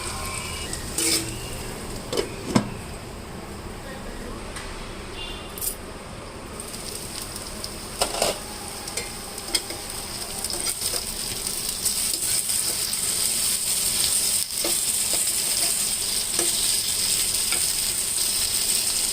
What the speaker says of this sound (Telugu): ఒక 10 నిమిషాలు నానబెట్టి ఇట్లా ఫ్రై చేసుకుంటే బాగుంటుంది.